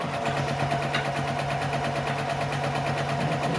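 A sewing machine stitches fabric for a simple tote bag, its steady rapid mechanical whir running evenly and close throughout with no talking.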